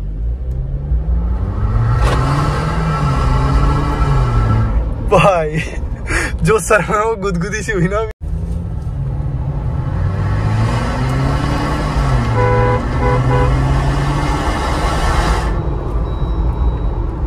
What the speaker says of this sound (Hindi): हम एक छोटा सा चेक करते हैं कि एग्जॉस्ट में कैसी आवाज आ रही है